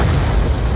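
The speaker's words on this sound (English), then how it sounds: "Explosions" A loud, booming explosion in Black Ops 2 team deathmatch fills the whole clip, a dense rumbling blast close up.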